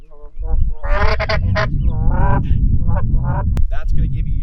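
A goose call played in short, rapid, honking murmur notes imitates geese feeding in a field, a loud run of clipped reedy bursts over a low rumbling background.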